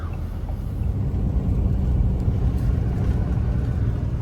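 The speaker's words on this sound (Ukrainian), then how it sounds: "Ось такими ми дорогами їдемо з Іспанії на Францію." A van travels a winding mountain road between Spain and France, its engine and tyres producing a steady, loud interior rumble that swells slightly partway through, with no voices.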